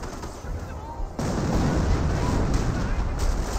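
Artillery fire in the video game Company of Heroes, a heavy blast arriving about a third of the way in and giving way to loud, sustained rumbling battle noise to the end.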